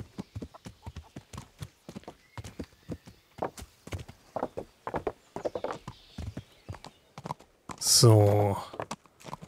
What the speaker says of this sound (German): ich reite dich mal zurück zum Stall.